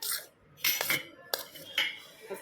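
A spoon clinks and scrapes in a bowl while stirring a homemade buttermilk spice mix, giving several short, bright metallic taps at uneven intervals, close and fairly quiet.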